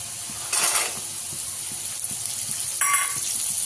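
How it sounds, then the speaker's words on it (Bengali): Suti kalai beans are tipped into dal cooking in a pan, giving two short hissing bursts over a steady low sizzle, close and fairly quiet, with no talk. "ডালের মধ্যে দিলে তো আমি সুটি কড়াইগুলো এবারে দিয়ে নেবো"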